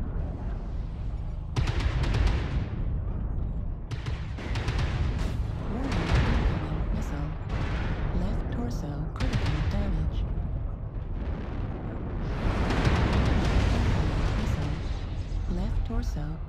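Mech weapons fire and an ammunition explosion in the MechWarrior Online video game, piloting a Blood Asp-A: dense, continuous booming bursts and rumbling blasts, loud and close, with heavy impacts under a synthetic voice announcing warnings.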